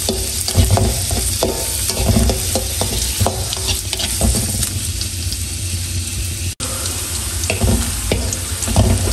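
Shallots and chillies fry loudly in hot oil for a curry. A dense, close sizzle carries on throughout, with a spatula scraping and stirring through the pan and a brief cut in the middle.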